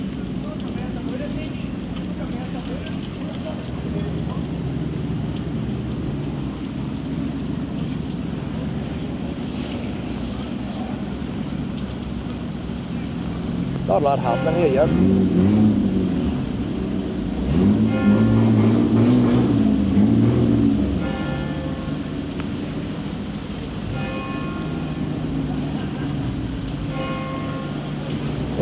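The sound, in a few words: rain falling at outdoor car show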